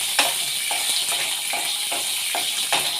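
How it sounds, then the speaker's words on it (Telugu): Peanuts and green chilies fry in a pan with a steady, close crackling sizzle broken by repeated scrapes of stirring. "పచ్చిమిర్చి, వేరుశనగపప్పు ఇలాగ వేయించుకోవాలి"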